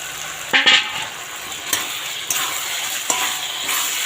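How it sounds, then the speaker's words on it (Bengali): Fried potatoes being stirred into cooking meat in a pot, a soft sizzle under a few sharp metallic clinks and scrapes of a spoon against the pan. "ভেজে রাখা আলুগুলো দিয়ে একটু নাড়িয়ে নিয়ে"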